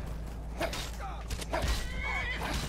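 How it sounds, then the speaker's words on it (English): A horse in the video game Skyrim neighs and whinnies repeatedly over a few seconds, fairly close, with game sound beneath and some voices mixed in. "Tomo Forge the horse, get out of here"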